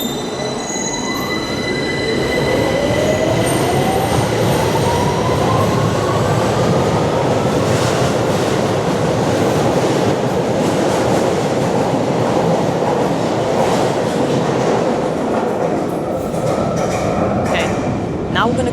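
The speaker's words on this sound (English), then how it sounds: "The train is now departing." A London Underground train pulls out of King's Cross St Pancras station, its wheels squealing loudly with rising and falling tones over a steady rumble for nearly twenty seconds.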